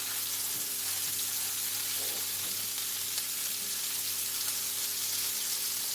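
Oil heats in a pan while carrot cake is being fried, giving a steady close crackling sizzle with a low hum underneath and a few faint clinks, no voices.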